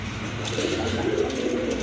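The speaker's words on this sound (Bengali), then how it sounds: "এটা হচ্ছে আপনার মাদি কবুতর আর যে পিছনে যেটা ওইটা হচ্ছে আপনার নর কবুতর" A pair of running pigeons, a female and a male, give soft low cooing calls, close and steady, over faint background noise.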